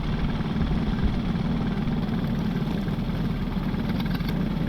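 Racing kart fitted with a brand-new Briggs & Stratton engine, running at a steady idle or low rev before a race, a continuous loud drone with no talking.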